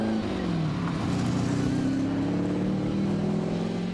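An MGB classic English roadster engine pulls hard on the road, a loud, close, steady rasping drone whose pitch dips briefly, then climbs smoothly as the car accelerates.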